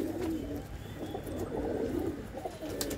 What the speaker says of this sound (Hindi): नसल दे कबूतर आ जिवें तुसीं देख रहे हो